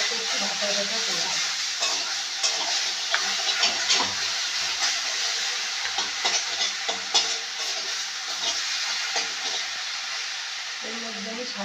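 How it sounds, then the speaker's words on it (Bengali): Poppy seed paste mixed with turmeric, salt and water fries in a pan for a pointed gourd dish, giving a steady, close sizzle and hiss with occasional stirring scrapes throughout, no talking. "ভাজা ভাজা করব।"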